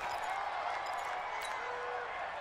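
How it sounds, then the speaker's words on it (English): Stadium crowd roar in an American football video game during a final-seconds two-point conversion, a steady dense wash of noise with faint claps and scattered calls throughout. "Listen to this crowd now."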